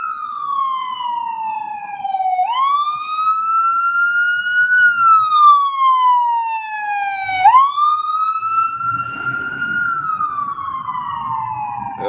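An ambulance siren wails loudly and continuously, its pitch sweeping up and down in long repeating cycles, with faint traffic rumble underneath.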